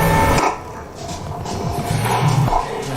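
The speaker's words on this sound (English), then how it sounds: "Happy puppy." A happy puppy yips and barks in a courtroom setting, short sharp calls close by under a steady murmur of room noise, with a brief quieter stretch in the middle.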